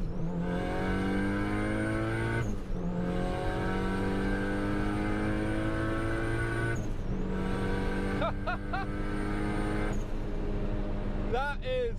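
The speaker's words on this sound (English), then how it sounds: "It really has that VTEC sound." A turbocharged 1998 Honda Civic VTEC pulls hard through second gear on the Autobahn. The engine howl climbs steadily in pitch and drops briefly at each shift, with some whistling and clicks near the end.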